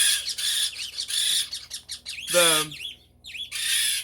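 Baby parrots squawk in harsh, repeated bursts while being held for leg banding, some cries close and loud, with a short pause near the end and one brief spoken word.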